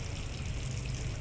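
White cooking oil pours steadily into a pan, a soft continuous trickle with a low hum beneath, heard alone for just over a second.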